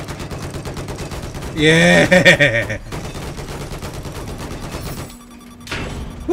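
Rapid, loud machine gun fire in a Battlefield video game. Close bursts rattle steadily through the stretch, while a voice shouts and calls out over the shooting.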